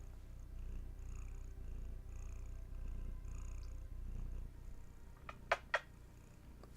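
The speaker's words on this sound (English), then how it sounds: "you got some purrs?" A soft, steady cat purr rumbles close by, followed by a few brief sharper sounds near the end.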